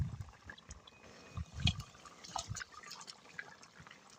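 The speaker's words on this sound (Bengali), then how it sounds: "চলো এবার মাছগুলো দিয়ে দেবো বন্ধুরা এবার মাছগুলো দিয়ে দেবো" Pieces of silver carp dropped into a pot of boiling potato curry give a few soft close splashes and bubbling liquid sounds, fairly quiet, with no voices.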